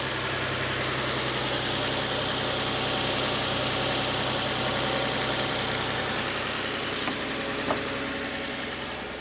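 An old farm truck engine idles smoothly and steadily, a close, even rumble with faint clicks and no voices.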